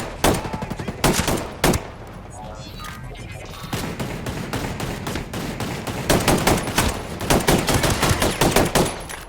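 Gunfire in Ghost Recon Breakpoint, sharp repeated shots in rapid bursts with gaps between them, loud and close, with no talking.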